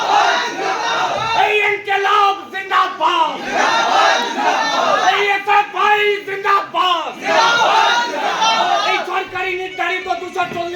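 A crowd of student protesters from SFI and DSO chants slogans in loud rhythmic unison at a rally outside the DI office in Berhampore, the call-and-response repeating steadily.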